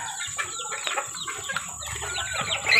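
Chickens cluck repeatedly at moderate distance on a Filipino home setting with many kept birds, short irregular calls overlapping under steady insect-like hiss and light background noise.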